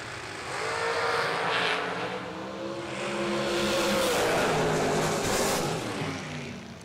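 Dragsters in a bracket race roar down a drag strip, the engine note sweeping up in pitch as the cars accelerate away, loud and continuous with crowd and track ambience behind it.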